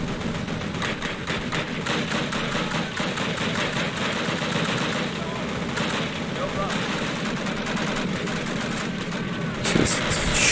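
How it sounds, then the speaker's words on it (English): Sustained rapid gunfire in Call of Duty, a steady rattling stream of shots running throughout over battlefield noise, with a louder burst near the end. "Just shooting over my brothers in arms"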